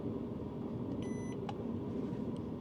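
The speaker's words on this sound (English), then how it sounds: "It beeps and it goes into cool down mode." A Sparks Overland gas heater controller gives a short electronic beep as it switches into cool-down mode, a brief tone over a steady background hum.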